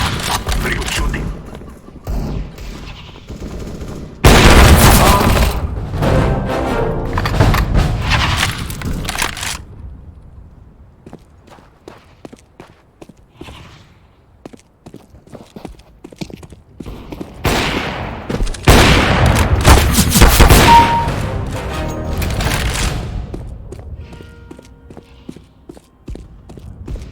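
Gunfire in CS:GO team deathmatch on De Dust 2, with loud bursts of rapid shots around the start and again in a second cluster later, separated by quieter stretches of scattered single shots.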